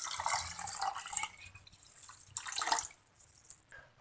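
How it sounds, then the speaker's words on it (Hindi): Water is poured into a pot for chicken soup, a soft splashing and trickling stream in two bursts with brief pauses, faint and close. "6 कप पानी डाल देंगे।"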